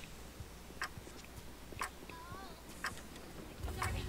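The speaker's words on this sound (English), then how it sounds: "Ticking timer. You hear it?" A quiet countdown timer ticks steadily about once per second in the video game BioShock, four faint clicks over a low background hum.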